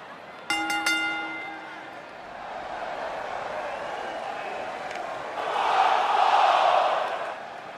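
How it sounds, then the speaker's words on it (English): A wrestling arena crowd: a bright ringing chime at the start, then a sustained crowd roar that swells louder toward the end. "Listen to this crowd, guys."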